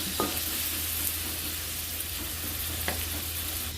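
Bitter gourd with onion, chili and tomato sizzles in a pan, a continuous soft frying hiss with a couple of brief stirring clinks, fairly close and without talk.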